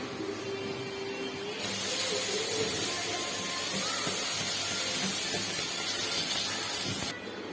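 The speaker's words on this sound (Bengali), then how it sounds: "এবার আমি দিয়ে দেবো কড়াইতে" Washed flattened rice (chira) goes into a hot wok. A loud, broad hissing sizzle starts abruptly after a quieter opening, holds steady for about five seconds, then cuts back down near the end. No one speaks.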